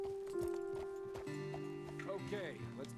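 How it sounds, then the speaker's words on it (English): Horse hooves clip-clop in Red Dead Redemption 2, with an occasional soft whinny under a sustained tonal game score, the hoof steps fairly faint beneath the music. "Best leave the horses back a bit."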